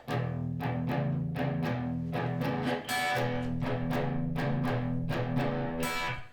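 An electric guitar plays a chugging blues shuffle with crisp strums and a brighter upstroke near the end, loud and close, with no voices.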